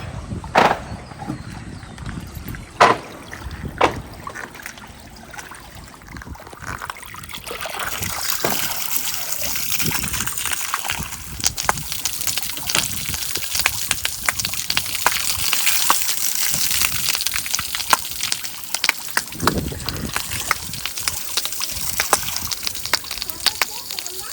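Water is poured and sloshed over fresh cement while a rooftop staircase is being built, a close, uneven trickling and splashing that goes on throughout, with people talking at times.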